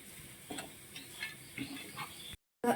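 Banana halwa sweet frying and being stirred in a pan: soft sizzling with a handful of scraping strokes of the spoon, close and quiet, cut off briefly near the end before resuming.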